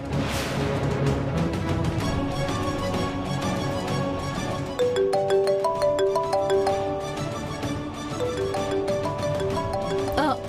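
A melodic electronic ringtone plays continuously, repeating a short looping tune at moderate volume.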